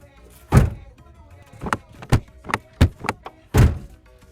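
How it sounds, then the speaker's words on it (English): Passenger door of a Ford Ranger being opened and closed during a rebuild, a series of sharp latch clicks and solid thunks, several close knocks with one heavier slam at the start and end. "now that the door's set up, we're gonna test fit it, or pretty much just open it and close it"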